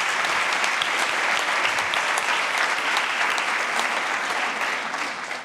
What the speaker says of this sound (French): On peut applaudir le témoin numéro 2.